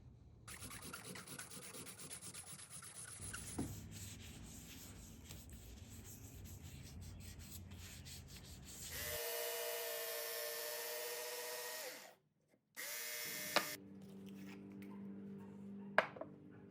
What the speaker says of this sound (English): we'll keep sanding it down to try to get everything a little more flush, a little more smooth